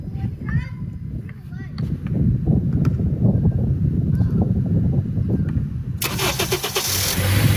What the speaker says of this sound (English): we're going to start the car up now